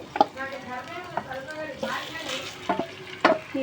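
Masala-coated chicken pieces for a Hyderabad chicken curry hit a hot pan and sizzle, with stirring scrapes and clatter at irregular intervals and a faint voice in the background.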